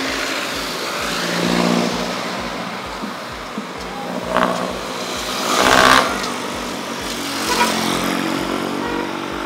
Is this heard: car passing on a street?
yes